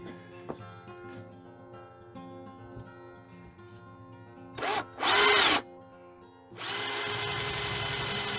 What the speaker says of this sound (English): I'm going to use a 9mm drill bit.